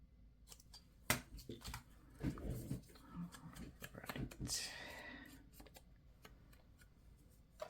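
Scissors trim the edges of mini notebook pages with quiet, crisp snips and paper rustling, mixed with faint background voices.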